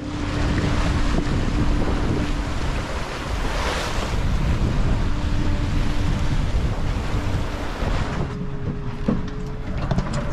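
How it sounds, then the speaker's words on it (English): Wind and rough weather roaring around a sailboat at sea off Iceland, en route to Reykjavik, with loud continuous gusts buffeting the microphone and waves surging against the hull. "the wind and weather suddenly came up."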